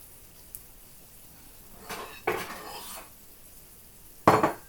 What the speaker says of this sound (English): I'm going to get 2 bowls out.